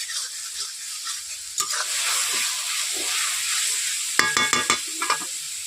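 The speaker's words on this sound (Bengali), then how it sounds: "এভাবে কষিয়ে নিচ্ছি ভালোভাবে যাতে আদা রসুনের গন্ধগুলো থেকেও থাকে" A pangas fish mixture with ginger and garlic fries in a pan with a steady loud sizzle, while a spoon scrapes and stirs in sharp clattering bursts near the end.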